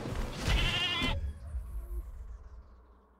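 A goat in Jurassic World Evolution 2 gives a loud, wavering bleat lasting about a second, then cuts off, leaving faint game ambience with soft rumbles behind it.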